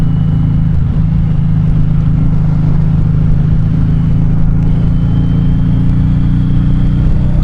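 Suzuki cruiser motorcycle cruising at steady speed, a loud continuous low engine drone with wind rumble, no voices, ridden on the road.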